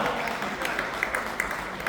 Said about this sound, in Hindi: जोरदार तालियां रखिए